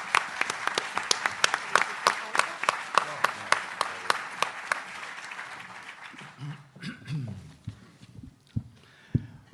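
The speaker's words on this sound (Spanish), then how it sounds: "Los recibimos con un aplauso." An audience at a university event claps to welcome a speaker with sharp, fairly sparse claps that thin out, after which a voice begins speaking.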